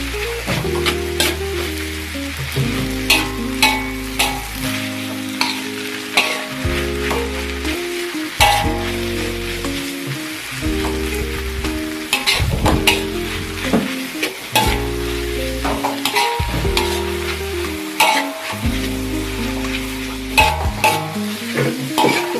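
Kueh tiaw noodles are stir-fried in a pan, giving a loud continuous sizzle with rapid scraping and clanking as they are tossed, while music plays underneath.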